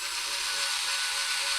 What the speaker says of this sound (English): Use 2 mm drill bit to drill a hole on the top right of the board